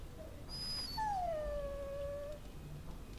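A warhound dog in the fantasy video game Dragon Age: Origins lets out a high, drawn-out whimpering whine that slides downward, preceded by a short yip, faint over a quiet background.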